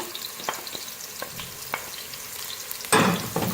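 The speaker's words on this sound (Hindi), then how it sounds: "लहसुन के जवे और हरी मिर्चों को ऐड कर दिया। थोड़ा सा फ्राई करेंगे।" Oil sizzles steadily in a pan of frying garlic and green chilies with scattered crackles and pops, growing to a louder hissing burst near the end as it is stirred.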